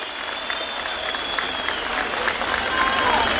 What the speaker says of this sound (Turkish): Alkışlar Cüneyt Başkan'a gitsin lütfen